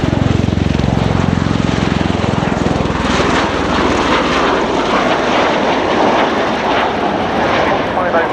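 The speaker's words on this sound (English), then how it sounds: "the aircraft, which has flown straight in from Mildenhall, has now landed on, ready to get airborne again in a very short rolling takeoff" A Bell Boeing CV-22B Osprey tiltrotor, flown in from Mildenhall, lands and transitions with a loud, close, pulsing rotor roar and engine whine that stays steady throughout, with a commentator talking over it.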